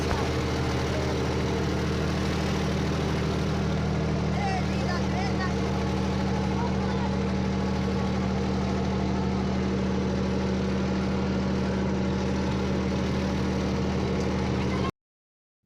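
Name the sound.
tractor engine revving while stuck in sand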